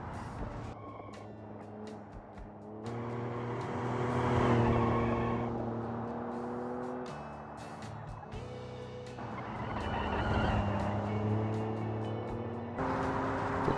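A supercharged V12 engine in a BMW Z3 roars at length as the car drives on the Nordschleife, rising and falling through the gears in long sustained pulls with brief lifts between them, close and loud without speech.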